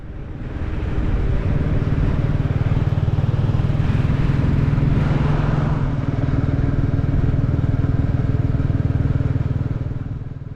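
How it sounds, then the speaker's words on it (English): Royal Enfield motorcycles ride along quiet country roads in Berwickshire, their single-cylinder engines giving a steady, loud thumping drone throughout, close to the microphone, with some wind and road rumble. "riding down here in Berwickshire on these wee motorbikes"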